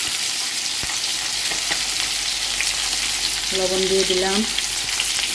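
Spices with turmeric frying in a pan, a steady loud sizzle with a few knocks of stirring, and someone speaking briefly over it.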